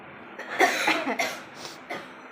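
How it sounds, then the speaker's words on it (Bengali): A few dry coughs in quick succession, close and fairly loud, with short pauses between them in a quiet room. "কাশি হচ্ছে খুসখুস করে কাশছি"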